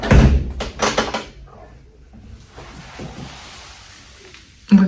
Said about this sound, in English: This door cannot even close properly.